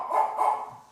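A dog gives two quick barks close by, alone and clear.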